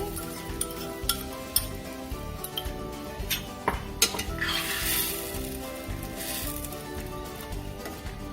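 Potatoes tumble into a simmering yogurt curry, followed by sizzling, bubbling and a spoon scraping and clinking against the pot in irregular bursts, close up and without talk.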